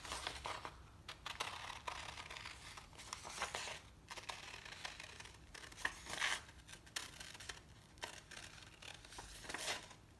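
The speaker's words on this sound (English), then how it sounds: "And we're gonna cut it out." Scissors snip and crunch through embroidery fabric, cutting out a circle slightly smaller than a traced hoop outline. The snips come as a steady run of close, crisp cuts mixed with soft fabric rustling, with no talking.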